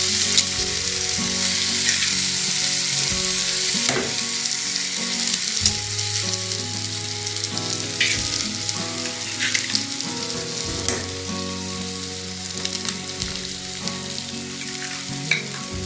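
Eggs stirred and mashed into frying onion masala on medium flame produce a loud, continuous sizzle close by. Stirring scrapes and clinks keep recurring throughout, with a low steady hum underneath and no talking.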